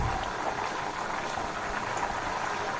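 Banana chips sizzling in hot oil with salted water stirred in, producing a continuous, even bubbling and fizzing hiss close by, with no pauses.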